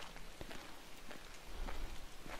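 Rain falls steadily in the video game The Order: 1886, a broadband hiss of drops with a few sharper patters and a low rumble, heard alone without talk.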